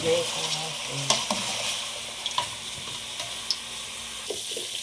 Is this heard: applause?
no